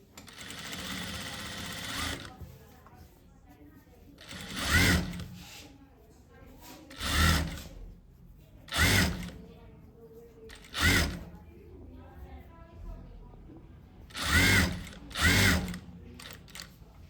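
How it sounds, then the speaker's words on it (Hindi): A sewing machine runs stitching along the edge of a piece of fabric in repeated short bursts of about a second each, separated by quieter handling noises and faint background speech. "बिल्कुल किनारे पे सिलाई लगानी है।"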